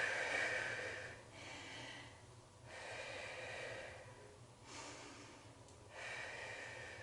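Heavy breathing after pelvic-friendly cardio exercise: slow, deep in-and-out breaths repeat in a steady rhythm, close and fairly quiet, with brief pauses between them.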